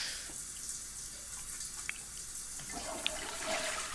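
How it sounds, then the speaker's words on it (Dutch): Shower water runs steadily in The Sims 4, a soft continuous hiss with a few faint clicks over it. "Je hebt genoeg gedoucht."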